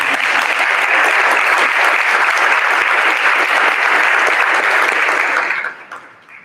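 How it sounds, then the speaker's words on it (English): Audience at a school board of education meeting bursts into loud, sustained applause, a thick even roar of many hands clapping that holds steady before tapering off quickly at the end. "So maybe another round of applause."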